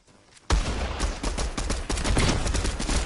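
Video game gunfire: after a brief quiet start, a sudden, loud, sustained stream of rapid shots fills the rest of the clip, close and uninterrupted.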